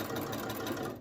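Quilt binding being backstitched on a sewing machine: a brief, close, rapid mechanical chatter of the needle running continuously at moderate volume.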